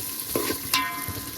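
Spices for tempering hit hot oil in a pan for seasoned rice, giving two short sizzling bursts over a low, steady frying hiss.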